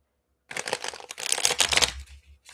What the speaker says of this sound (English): Have patience with me on the shuffle.